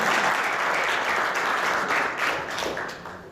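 Applause from a crowd at a boxing press conference for Banner Promotions, a dense, steady patter of many hands that holds for a few seconds and then starts to thin out near the end.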